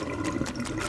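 Floodwater gushes back through drains in a drainage simulation game set at a convenience store, a continuous loud rush of flowing water with no voices.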